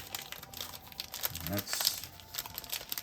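A Topps Heritage trading card blaster pack's wrapper is torn and crinkled open close up, a run of crackly rustling bursts with a louder tear near the middle, while someone talks over it.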